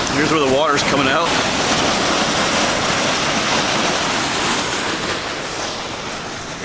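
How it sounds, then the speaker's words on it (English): Water pouring out below a dam breast at Little Pine State Park in Pennsylvania makes a loud, steady roar of rushing flow that fills the whole scene, with a brief voice near the start. "Here's where the water's coming out."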